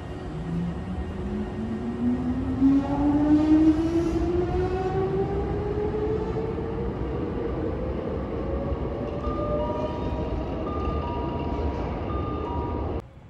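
A train pulls out of a station on the Nose Electric Railway at Kawanishi-Noseguchi, its motors whining steadily upward in pitch over a continuous rumble that stays loud and close before cutting off abruptly.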